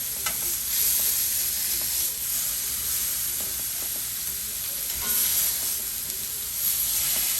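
Steak searing in a hot pan, a continuous close sizzle and hiss with light scrapes and taps as the meat is flipped and moved around.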